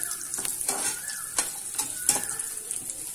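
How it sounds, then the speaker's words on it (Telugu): Dry fruits frying in melted ghee sizzle steadily while being stirred, with soft scraping strokes from a spoon at irregular intervals, close and moderately loud with no talking. "దీంట్లో హాఫ్ కప్ డ్రై ఫ్రూట్స్ అనేవి యాడ్ చేస్తున్నా ఇది బాగా వేగాక కొంచెం వేగనివ్వాలి"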